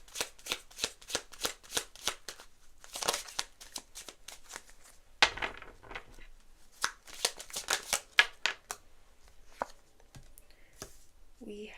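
Tarot cards are shuffled in quick riffling bursts, each a short crisp flutter, repeated rhythmically near the microphone with brief pauses between them.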